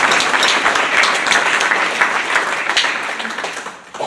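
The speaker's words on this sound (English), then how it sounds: "Let's give that a round of applause" Warm applause from an audience at an alumni athletic hall of fame ceremony, sustained and fairly close, slowly thinning toward the end with scattered claps.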